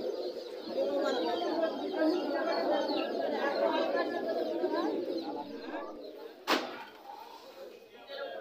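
Pigeons coo and chatter together at a crowded pigeon market in Kasimpur, a dense, steady murmur of many birds with a sudden sharp knock near the end.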